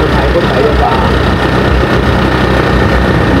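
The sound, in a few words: tractor engine idling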